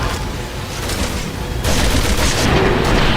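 Dense rapid gunfire from the video game Resident Evil 6 fills the stretch with loud continuous bursts and booms.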